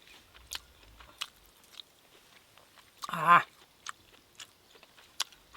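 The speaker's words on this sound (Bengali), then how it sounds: "এই প্রথম কাশ্মীরি পোলাও খাচ্ছে" Someone eating Kashmiri pulao with paneer butter masala cooked on a clay stove, with sparse quiet bites and chewing clicks, plus one short louder burst of crunching near the middle.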